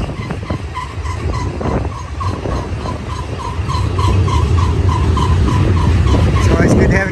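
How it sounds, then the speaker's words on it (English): A long freight train of gondola rail cars rolls past Mormon Rocks with continuous rumbling and clattering wheels, regular metallic clicks over rail joints, and a growing low roar as the cars go by. "The Gondola train."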